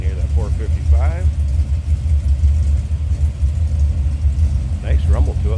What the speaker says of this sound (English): You can hear that 455.